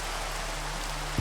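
Steady rain falling in a Minecraft world modded with Biomes O'Plenty, a soft continuous hiss with a faint low hum beneath and a brief thump near the end.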